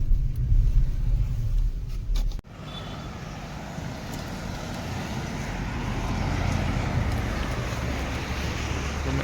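Car driving near Shimla with the windows rolled down, giving a steady low rumble of road and wind noise that continues after a brief thump, with the buffeting swelling slightly toward the end.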